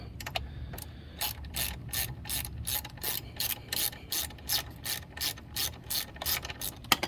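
A ratchet undoing a foot peg bolt on a Kawasaki Vulcan S 650 clicks in a quick regular rhythm, about twenty sharp ratcheting bursts close up, with no voices.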